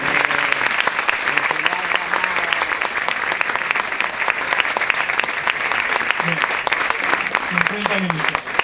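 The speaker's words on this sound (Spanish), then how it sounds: "pues un aplauso" An audience at a talk in Albelda de Iregua claps continuously, loud and close with crisp individual claps, while scattered voices murmur beneath.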